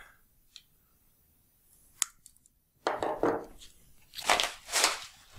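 Packaging around a Makita 7104L chain mortiser is cut and pulled open, with a few sharp isolated snips and clicks early on followed by louder rustling and tearing bursts near the end.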